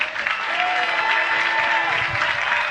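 Zambia supporters in a football stadium cheer and applaud in a dense, continuous roar of crowd noise, loud and sustained from start to finish.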